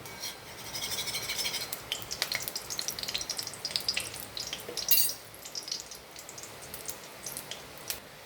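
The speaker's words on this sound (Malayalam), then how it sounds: "അതിലേക്ക് ഞാൻ കുറച്ച് നെയ്യ് ചേർത്ത് കൊടുക്കുന്നുണ്ട്." Ghee and coconut oil sizzle steadily in a pan while rava upma is started, a soft continuous frying crackle with light stirring scrapes and a few brief pops, fairly quiet and close, no talking.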